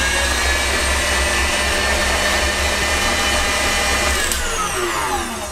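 An electric mixer beats egg-free treacle pudding batter at high speed with a loud, steady motor whine that stays close and constant and winds down at the very end, with no talking.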